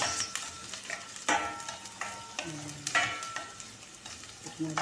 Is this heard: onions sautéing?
yes